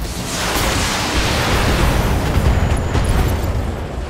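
SRM6 short-range missiles detonating in the BattleTech mech combat game, a dense, loud, continuous roar of overlapping explosions rumbling steadily for about four seconds.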